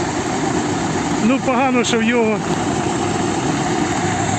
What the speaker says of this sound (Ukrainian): Хороший трактор Т-25.